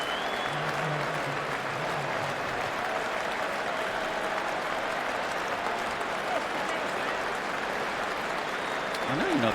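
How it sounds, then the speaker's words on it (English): A full cricket crowd at Lord's gives a sustained standing ovation during an England v Australia 2023 Test, dense steady clapping throughout with faint voices mixed in. "Lord standing to applaud the bravery, the commitment, the dedication to his team's cause."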